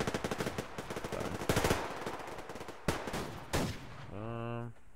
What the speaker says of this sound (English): Some shooting going on up here.